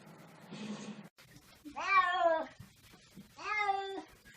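A pet cat meowing at home, heard as two loud, drawn-out, slightly plaintive meows close to the microphone, with a softer rustling sound before them.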